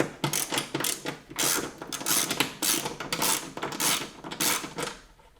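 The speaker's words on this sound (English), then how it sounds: "I'm using a size 12 socket here. And I'm going to remove that" A size 12 socket wrench ratchets rapidly as backrest nuts come off a Road Glide motorcycle, its loud, close clicking strokes repeating in quick bursts.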